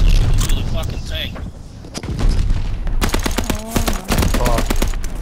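Gunfire in Vanguard, a World War II shooter, with rapid automatic bursts and sharp shots, dense and loud near the end, as players talk excitedly over the battle.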